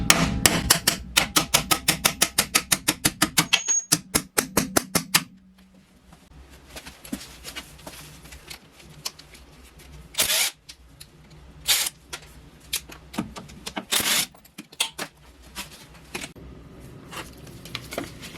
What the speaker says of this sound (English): I'm going to use this copper hammer in order not to damage the bolts.